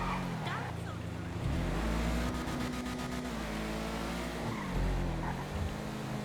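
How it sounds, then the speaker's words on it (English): A Sentinel sedan drives in GTA V, its engine a steady droning hum that rises and falls with throttle changes, with a faint squeal of tires near the middle; a voice talks over it. "the Sentinel that I'm driving, it's an awesome car"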